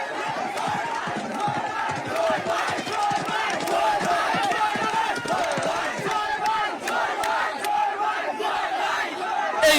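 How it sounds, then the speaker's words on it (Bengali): A large outdoor crowd roars and cheers at a village horse race in Sunamganj, with dense, sustained shouting and scattered sharp claps or whoops throughout, loud and continuous with no lulls. "মাঠ জুড়ে উল্লাস আর করতালিতে মুখরিত সুনামগঞ্জের আকাশ বাতাস"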